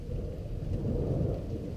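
A loud, deep rumble of thunder from a lightning strike about 400 metres away rolls on steadily and close, over a soft hiss of rain, during a strong multicell storm in Tour-en-Sologne, France.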